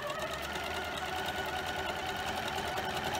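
A sewing machine stitches the stem of a quilt applique, running continuously at an even fast rate, close and steady throughout with no talk.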